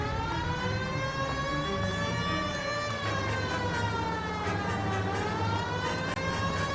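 A police car siren in the video game L.A. Noire wails in a steady, slowly rising and falling tone, fairly close and continuous, with a low engine rumble beneath it.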